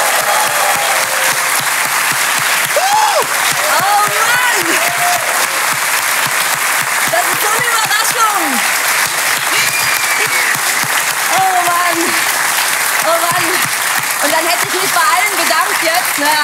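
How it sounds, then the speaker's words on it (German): Sustained, dense applause from a television studio audience fills the whole stretch, loud and even, with voices calling out faintly within it. "Erstmal gibt es einen Applaus."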